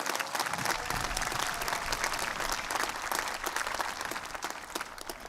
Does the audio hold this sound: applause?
yes